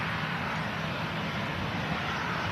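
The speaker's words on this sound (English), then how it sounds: "Police heli, just passing in front of the tower there." A police helicopter passes in front of the control tower at Manchester Airport, heard as a steady, broadband engine and rotor roar with no clear beat. It holds evenly throughout at a moderate distance, with no talk.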